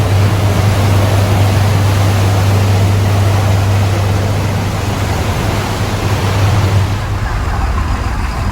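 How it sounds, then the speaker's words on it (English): Engine of a passenger ferry leaving Hong Kong's Central pier for Cheung Chau, a steady low drone that persists throughout under broad rushing water and wind noise, easing off toward the end. "I can feel the engine starting."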